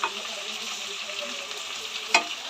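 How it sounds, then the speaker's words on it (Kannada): Eggplant masala with chili powder and turmeric frying in oil, a soft steady sizzle close by with one brief clink of a spoon near the end, no talking. "ಈ ಥರ ಎಣ್ಣೆಯಲ್ಲಿ ಸ್ವಲ್ಪ ಬೇಯಲಿಕ್ಕೆ ಬಿಡಬೇಕು"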